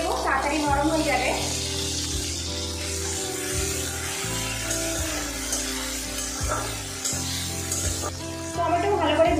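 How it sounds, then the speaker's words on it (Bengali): Chopped tomatoes with a pinch of salt frying in a pan for a spiced pumpkin curry, a continuous soft sizzling hiss running throughout beneath steady background music. "টমেটোটা ভালো করে ভেজে নেব আমি"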